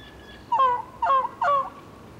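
Wooden turkey box call scraped to imitate a turkey, giving three short, sharp, raspy yelps in an even rhythm, loud and close outdoors.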